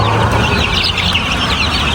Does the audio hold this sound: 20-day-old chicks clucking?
yes